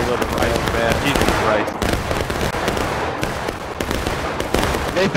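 Musket fire from a line of soldiers in the Civil War game War of Rights rolls on as a loud, continuous crackle of overlapping shots, with voices mixed in.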